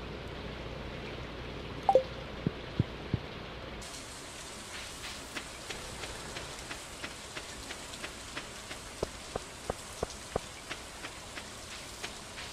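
Rain in the Stardew Valley farming game falls as a soft, steady patter that starts partway through, with faint, evenly spaced light ticks layered over the quiet wash.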